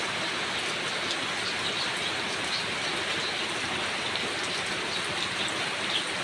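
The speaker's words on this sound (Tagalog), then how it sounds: "Lakas ng ulan." Heavy rain pours down under a very dark sky, a dense, unbroken hiss of drops hammering surfaces close by, steady and loud throughout with no voices.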